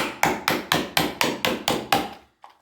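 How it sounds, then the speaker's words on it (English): Eight sharp metallic blows in an even rhythm as the butt of a Cold Steel Recon 1 knife hammers an old soda can flat, close and loud, followed by one lighter tap after a short pause. "you can definitely hammer this flat with the end"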